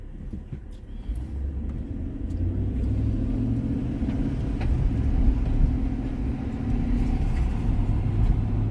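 A car cruising along California Boulevard, an ordinary city street in Pasadena at night, gives a steady low road rumble and engine hum, swelling slightly as it drives on, heard from inside with no talking.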